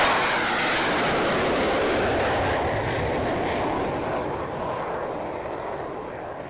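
Aeroplanes flying over an airshow, a loud steady roar of aircraft engines that holds throughout and fades only slightly toward the end, with no voices over it.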